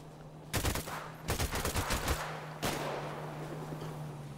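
Gunfire in GTA 5 roleplay on city streets: a loud single shot, then a rapid burst of automatic fire, and another lone crack, sharp and close over a steady low hum with no talking.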